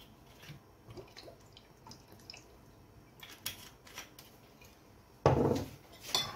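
Tomato tartare being mixed with salt, pepper and olive oil in a bowl, soft scattered clinks and wet stirring sounds, faint and close, ending in a louder scrape and clatter.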